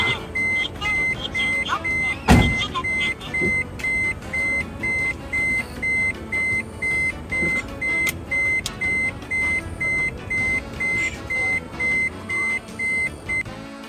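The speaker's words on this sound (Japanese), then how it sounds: "電源を入れてみます。 ピーピーピーピー鳴るようになる。" An electronic device switched on emits a repeating series of evenly spaced high-pitched beeps, steady and insistent, over faint background noise with a sharp knock near the start.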